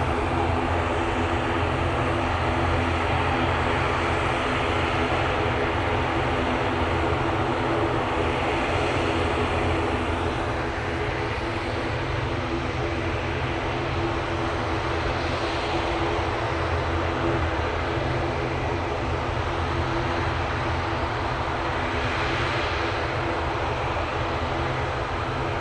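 A Ryanair airliner returning from Derry on final approach at Manchester Airport, heard as a steady, broad engine roar that holds evenly at moderate level throughout, with no voices.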